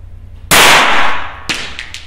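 A single gunshot fired at a shooting target: one loud, close, sharp blast with a ringing tail, followed by a couple of fainter metallic knocks.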